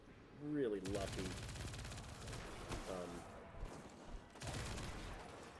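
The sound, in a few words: 900 RPM SMG firing in Destiny 2 video game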